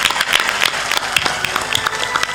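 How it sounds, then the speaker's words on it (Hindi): A crowd at a religious discourse applauds, with dense, steady hand-clapping throughout that rises and falls slightly in intensity. "जोर से ताली बजाओ"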